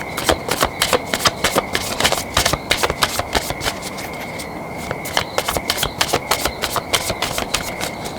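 Tarot cards riffle and shuffle in repeated quick bursts, close and crisp, with a short pause partway through before the brisk flicking resumes.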